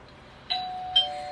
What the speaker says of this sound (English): ding dong, that simply means that we're going to the next exercise.